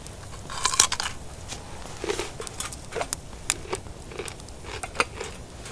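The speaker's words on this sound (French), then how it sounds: "je vais y manger cru. C'est trop bon la carotte crue." Someone bites into a raw carrot and chews it outdoors, giving several sharp, close crunches followed by quieter irregular chewing crackles.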